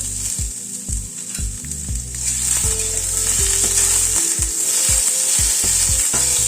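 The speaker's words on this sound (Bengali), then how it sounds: "পেঁয়াজ, আদা, টমেটো, কাঁচা লঙ্কা, রসুন সবগুলোকে একটুখানি হালকা একটু ভেজে নিচ্ছি আগে।" Onion, ginger, tomato, green chilli and garlic frying together in a pan for a paneer and baby corn dish, a loud, bright, continuous sizzle with regular spatula knocks against the pan as it is stirred.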